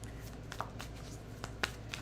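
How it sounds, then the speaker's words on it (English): Tarot cards are shuffled by hand in a quiet indoor room, giving soft papery riffles and a few sharper card slaps spread across the moment, fairly close and faint, with no talking. "I'm just going to shuffle because I want the cards to come out on their own"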